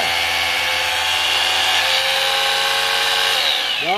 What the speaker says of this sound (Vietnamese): cái này là khoan bê tông nè